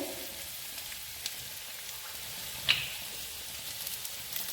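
Beaten egg frying and being mixed in a pan for chicken fried rice, a soft, steady sizzle with a faint scrape or two, heard alone without talk.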